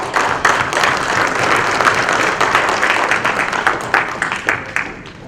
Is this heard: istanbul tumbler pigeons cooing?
no